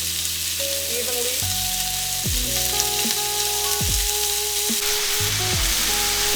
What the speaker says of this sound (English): whenever we put in the chicken, we're gonna hear a sizzling effect.